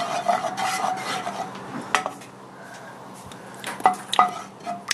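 Garlic salt being mixed into homemade pizza sauce, a spoon scraping and clinking against a bowl or pot in a run of close scratchy strokes, with a few sharper clanks.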